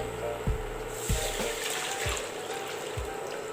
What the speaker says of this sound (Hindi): अब लेने के बाद इसके अंदर जाएगा आपका पानी।